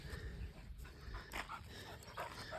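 A shepherd dog whimpers softly and pants in quick breathy bursts, close by, with a low background rumble and no clear speech.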